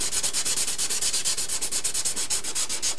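A model Ohio-class submarine hull is sanded by hand with 240 grit sandpaper, making close, even back-and-forth scratching strokes in a quick, regular rhythm with no talking.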